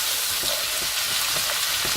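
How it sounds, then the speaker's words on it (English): Steady, loud sizzling of onions frying in a hot pan, with a constant crackling hiss and no voices. "While the onions are getting fried,"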